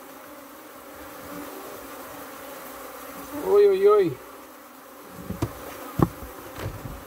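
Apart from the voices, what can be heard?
honey bees buzzing around hive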